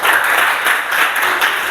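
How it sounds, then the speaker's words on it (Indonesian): A short burst of applause from a group of students in a classroom, steady broadband clapping that swells and dips slightly over under two seconds, no voices. "Kasih tepuk tangan untuk kelompok 4."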